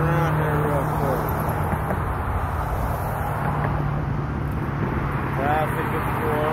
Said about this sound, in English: Traffic, of course.